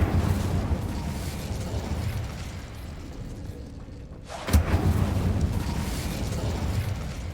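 Fire spell cast in the Hogwarts Legacy game: a sudden whooshing burst flares up and then keeps roaring over a steady low rumble of background ambience.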